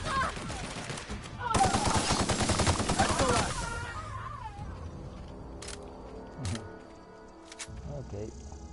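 Rapid gunfire from marauders in The Outer Worlds: a dense burst of automatic shots for about two seconds, followed by a few scattered later shots and game noises.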